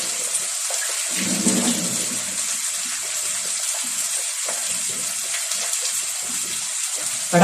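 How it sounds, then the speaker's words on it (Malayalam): Water poured into a fish curry being cooked with tomato, shallots and coconut milk, a steady close splashing gush running the whole time with no talk. "വെള്ളം ഒഴിച്ച് വെച്ചേക്കാം. കറിക്ക് വെള്ളം വേണ്ടി വരുമല്ലോ."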